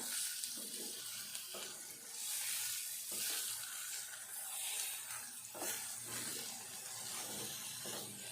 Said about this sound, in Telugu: ఈ మిల్ మేకర్ కూడా మంచిగా ఈ పప్పుల ఈ తాలింపులో మంచిగా వేగాలి మంచిగా ఫ్రై కావాలి